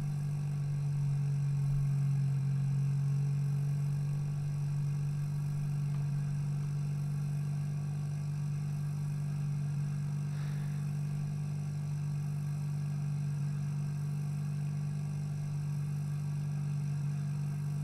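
A steady aircraft engine drone at reduced throttle in the X-Plane 10 flight simulator, a constant low hum that stays even and moderately quiet throughout, with no talking.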